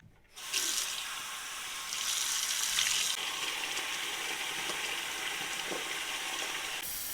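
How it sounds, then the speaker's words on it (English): A running tap pours water while a beard is rinsed out, a steady close hiss and splash that starts suddenly and continues alone with slight changes as the flow is interrupted. "you want to rinse out your beard"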